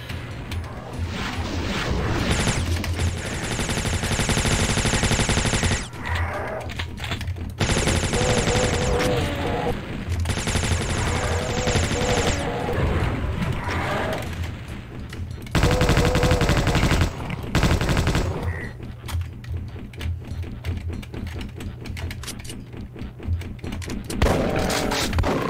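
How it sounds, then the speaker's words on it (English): Shotgun and other weapon fire in a Doom mod video game, loud dense bursts of blasts and rapid gunfire in long runs with brief pauses, heard over game sound. "I appreciate the punchiness of this shotgun."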